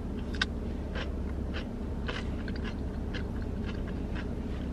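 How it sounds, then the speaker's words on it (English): Crunchy bites into a pickle served with a sub sandwich, a few sharp crisp crunches close up with chewing in between, no talk over it. "And then let's bite into our pickle."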